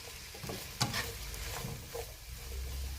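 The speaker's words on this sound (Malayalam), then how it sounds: "ഞാൻ നമ്മുടെ ശരിയാക്കി വെച്ചിരുന്ന ഒക്ര ഇട്ട് കൊടുത്തു." Frozen okra shallow-fries in a pan with sliced shallots, giving a close sizzle with scraping stirs and a sharp clatter near the start.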